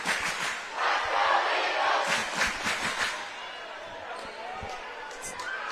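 A packed high school student section at a volleyball match, Musselman Applemen at Hedgesville Eagles, roars with loud, sustained cheering from close by, with surges of yelling and a few sharp thumps.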